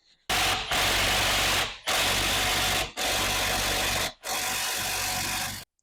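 A Milwaukee mid-torque impact wrench hammers on crown bolts in four loud, close bursts of rapid rattling impacts, separated by brief pauses.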